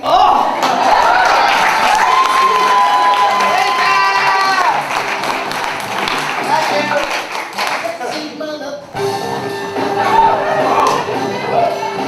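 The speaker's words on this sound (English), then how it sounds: "Just give her applause for the outfit." Audience at a live monologue slam in Manhattan clapping and cheering for a performer's outfit, a steady round of applause with whoops and overlapping voices running throughout.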